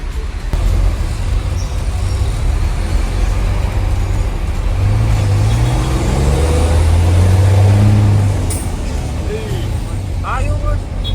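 A steady, loud roar of congested road traffic with cars and trucks idling and creeping at a red light near Tanjung Priok port, with low engine rumble throughout and brief higher mechanical noises near the end.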